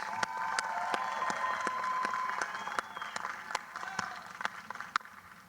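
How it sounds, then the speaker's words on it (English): A commencement ceremony crowd gives volunteers a round of applause: scattered, distinct claps ring out sparsely and somewhat distantly over a low background murmur. "Let's give them a round of applause"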